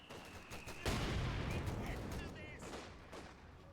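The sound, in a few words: double mortar barrage in a video game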